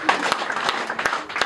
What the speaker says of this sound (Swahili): Ya Yesu makofi.